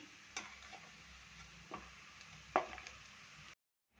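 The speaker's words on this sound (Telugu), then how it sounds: "ఇదే విధంగా ఇంకా కొద్దిగా మిగిలిన పీసులను కూడా వేసి ఆయిల్లో డీప్ ఫ్రై చేసుకుంటున్నాను" Chicken pieces deep frying in oil for a pickle, a faint, soft sizzle close by, with a few sharp ticks and clinks of a utensil against the pan before the sound cuts off.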